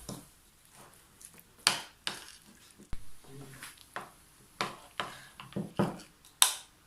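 Cream and lemon juice being mixed in a bowl, giving a series of irregular wet clicks and taps of a utensil against the bowl, close and moderately loud.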